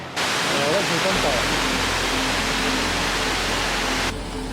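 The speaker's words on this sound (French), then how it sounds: "On est arrivé à la cascade des Trois Roches." Trois Roches waterfall in the Cirque de Mafat on Réunion, a loud, constant broadband roar of falling water close by that fills the whole clip, with a voice talking faintly underneath.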